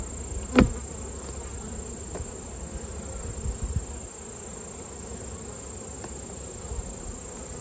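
Honeybees hum around a hive during bulk feeding, a constant dense buzz near the microphone with a few louder passes as single bees fly close.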